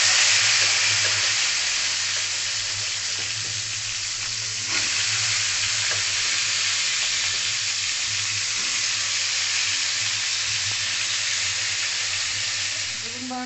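Brinjal pieces fry in hot oil, giving a continuous close sizzle and hiss with occasional stirring taps, holding a fairly even level throughout.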